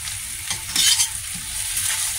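Chicken wings frying in a pan with ginger and garlic added, giving a steady loud sizzle with a brief surge of hiss and a few stirring scrapes.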